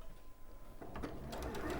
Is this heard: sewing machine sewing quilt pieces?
yes